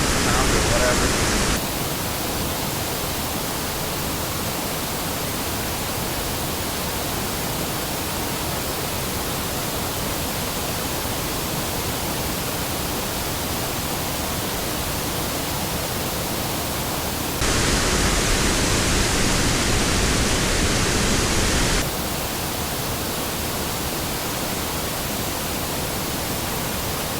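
Loud, steady roar of water rushing through the dam at Lockport, Manitoba, a dense broadband wash that fills the whole clip and swells louder for a few seconds near the end.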